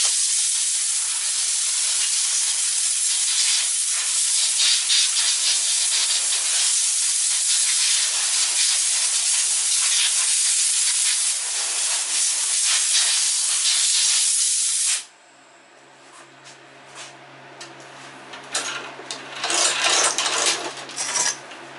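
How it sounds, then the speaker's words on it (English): Air compressor nozzle blowing dirt off a Briggs and Stratton lawn mower, a loud continuous close hiss for about fifteen seconds, then stopping and giving way to quieter scattered clanks and rustling. "take a little air compressor and clean it off before we access the bolts"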